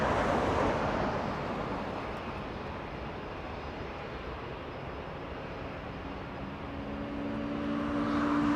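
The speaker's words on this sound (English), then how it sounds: "SkyWest 4080 from Boise, Idaho coming in." A SkyWest airliner arriving from Boise at Los Angeles International Airport roars past as a broad, steady jet rumble, loud at first, dipping slightly, then swelling again near the end, with no voices.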